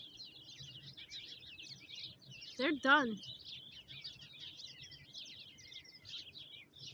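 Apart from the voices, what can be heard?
baby finches singing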